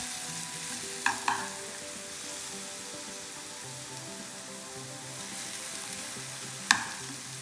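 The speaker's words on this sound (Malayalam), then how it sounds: "നല്ലോണം ചെറുതായിട്ടൊന്ന് കളറ് മാറുന്നത് വരെ ഒന്ന് വറുത്തെടുക്കും" Food frying with a spoonful of sugar in a pan, giving a soft steady sizzle close by, with a few sharp spoon scrapes and taps against the pan and no talk.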